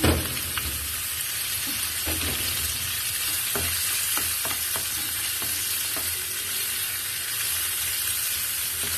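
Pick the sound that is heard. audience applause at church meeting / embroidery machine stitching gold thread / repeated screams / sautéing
sautéing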